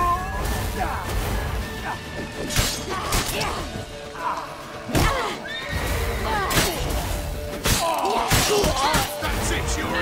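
A horse in The Witcher 3 neighs amid game action, with thumps and crashes around it and a voice talking over it.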